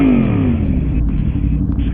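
Game motorcycle engines revving loud and close, a continuous throaty roar with a falling pitch sweep, no pause throughout.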